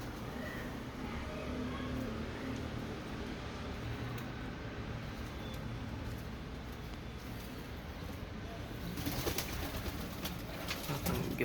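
Pigeons coo and shuffle nearby after being bathed in hot weather, a soft continuous bird sound over a steady background hum, with a few louder rustling flaps near the end.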